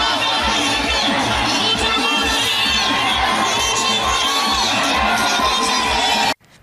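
A large outdoor crowd at a Museveni campaign rally cheers and shouts continuously, a dense roar of whoops and voices close and loud throughout before cutting off abruptly.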